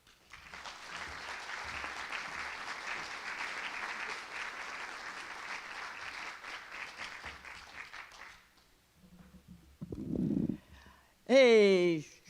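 Steady applause from an indoor audience welcoming a speaker, a sustained clapping crowd for several seconds that fades out, followed by brief talking.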